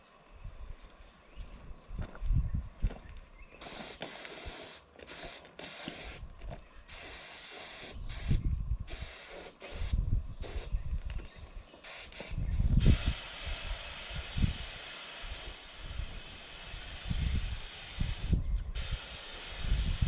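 A spray can applies red Rust-Oleum oil-based primer in light coats, giving steady hissing bursts that start and stop repeatedly, close and fairly loud, with clunks and handling noises between passes.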